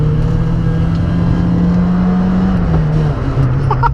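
A Citroën Saxo Rally 2.0 rally car with a small exhaust drones loudly at close range, its engine note holding steady before dipping and rising slightly as it shifts.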